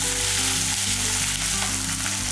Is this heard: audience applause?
no